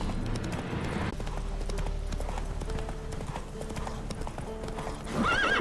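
Roach the horse galloping in The Witcher 3, steady rhythmic hoofbeats pounding close by over a low rumble, ending in a whinny.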